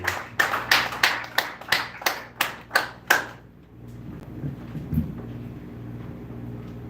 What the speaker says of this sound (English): clap it up for the comedy silence of Colton Duarte.